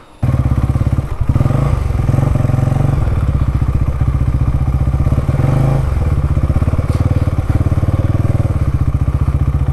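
A motorcycle engine throbs loudly and steadily at close range for nearly ten seconds during a ride along the coast near Goa and Karwar, with occasional clatter and thumps from the road.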